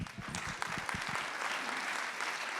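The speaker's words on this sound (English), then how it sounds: "Let's give our panelists an enormous round of applause for this session." An audience at a peace conference session on nuclear disarmament applauds its panelists: dense, steady clapping from a crowd throughout, with a few heavier low thumps early on.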